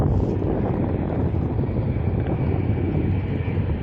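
A departing airliner bound for Lisbon climbs away from Manchester Airport, a steady broadband jet roar holding at an even loudness throughout with a little wind noise, and no talking.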